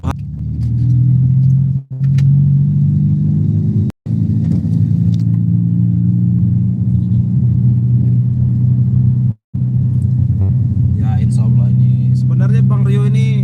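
A borrowed car is driven fast on a road, its engine and tyres producing a steady loud low rumble from inside the cabin, broken by a few short dropouts, with someone talking over it.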